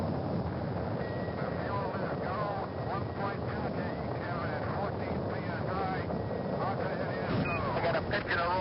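Rocket engine liftoff in the Race into Space video game, a steady loud broadband roar that holds throughout, with a voice speaking over it.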